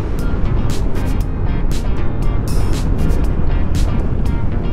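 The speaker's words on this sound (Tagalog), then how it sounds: "Ayan, tapos ang lakas ng hangin." Strong wind roars steadily across the microphone of a rider on a Honda ADV160 scooter, a loud, dense buffeting rush with repeated sharp gusty bursts and no pause throughout.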